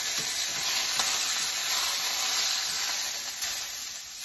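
Steak fries in hot oil in a pan, giving a steady, close, loud sizzle and hiss that holds evenly throughout without any talk.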